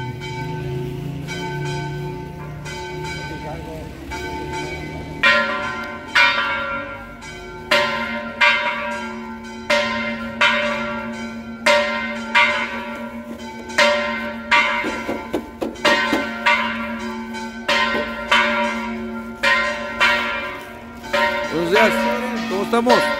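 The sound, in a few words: church bells ringing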